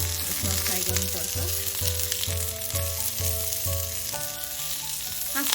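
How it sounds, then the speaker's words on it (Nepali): Vegetables for a pan pizza lightly frying with a little salt, a close, steady sizzle with occasional stirring clatter, and no voices. "भेजीहरूलाई धेरै बेर पकाउनु चाहिँ होइन, यस्तै 2-3 मिनट जति यसलाई हल्का यसमा फ्राई गर्नुपर्छ।"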